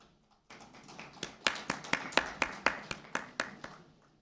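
Applause at a cricket league player auction event, a small group clapping in a steady run of distinct claps that starts quietly and grows louder, with no talk over it.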